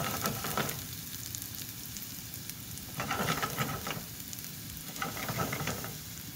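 Food sautéing in butter in a pan gives a continuous soft sizzle, swelling in a few brief bursts as it is stirred, heard close up with no talking.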